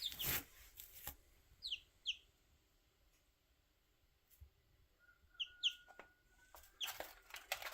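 A rooster in a backyard flock clucks and gives short chirpy calls, faint and somewhat distant, in a few brief bursts against low background noise.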